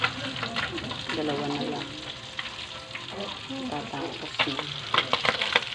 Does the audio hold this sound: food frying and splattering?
yes